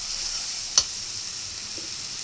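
Cumin and turmeric powder sizzling in hot oil with garlic paste for a Bengali stinging catfish curry, a steady close hiss with one brief scrape or stir partway through.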